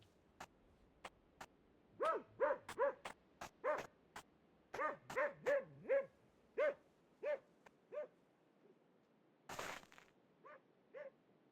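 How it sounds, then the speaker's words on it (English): A video game's dog sound emitter plays a rapid series of sharp barks and yips, loud and clear in irregular clusters, with one brief noisy burst near the end and no talk. "Dog sound emitter"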